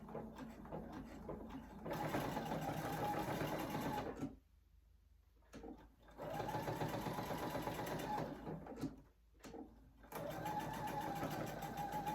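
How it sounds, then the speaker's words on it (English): A sewing machine stitches a zipper project bag in three bursts of rapid, steady whirring, with short quiet pauses between them. "So I'm going to finish this corner and just sew a little bit"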